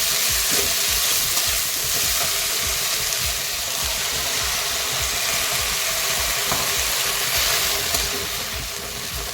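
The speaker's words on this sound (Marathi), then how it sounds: "या पद्धतीने बारीक चॉप करून आपण मेथी अशी थोडीशी शिजवून घेतली" Finely chopped fenugreek leaves cook in a hot pan with a steady, loud sizzle that barely changes for the whole stretch, with faint stirring scrapes inside it.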